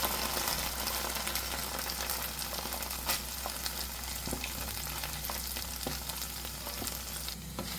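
Ground paste added to onions frying in a pan for a chickpea and potato curry, producing a steady close sizzle with a few scattered clicks and a low hum underneath, no voices.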